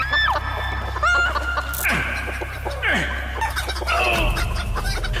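Chickens cluck and squawk loudly and close at a stunt-show feast, a busy flurry of overlapping calls with a rooster-like crow, continuing for several seconds.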